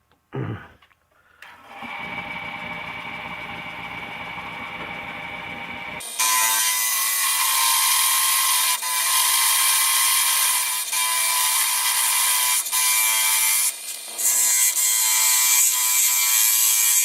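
A lathe spins a piece of unidentified wood for a Halloween box while a skew chisel cuts it, first a steady motor hum, then a loud, bright scraping shriek of the tool biting the wood that continues with small shifts.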